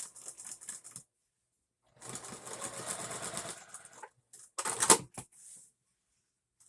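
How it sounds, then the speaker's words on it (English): Sewing machine stitching a costume seam. It runs in short bursts of rapid, whirring stitching that stop and start, with small handling noises in between. "But we're just going to sew it together now."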